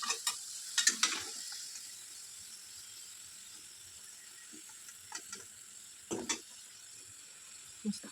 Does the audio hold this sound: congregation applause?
no